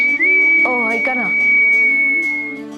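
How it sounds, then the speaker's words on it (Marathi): A person whistles one long, steady, high note indoors, holding it for several seconds while another voice briefly talks over it. "शिट्टी वाजवू नका ना प्लीज"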